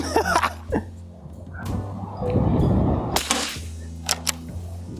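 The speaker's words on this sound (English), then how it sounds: "So why don't you take your 5 shots and go for the garbage pail on the right." An 80-year-old military surplus CZ Brno .22 rifle fires several sharp, separate cracks at irregular intervals on an outdoor target range, each shot fading quickly between the reports.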